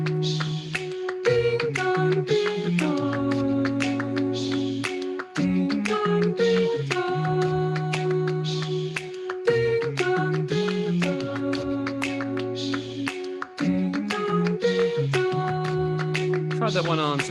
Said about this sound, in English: That's the Westminster Quarters theme.